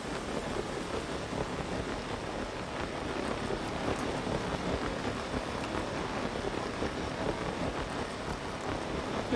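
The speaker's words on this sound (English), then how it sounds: "There's no way I can climb in this rain." Steady rain falls in Zelda: Tears of the Kingdom, a dense, even hiss of drops spread across the whole clip with a faint wind-like rumble beneath and no talking.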